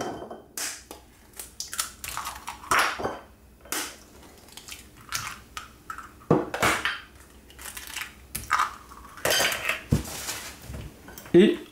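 A whisk beats eggs and sugar in a bowl for chocolate cake batter, giving irregular metallic clinks and scrapes in quick bursts, close by and fairly loud.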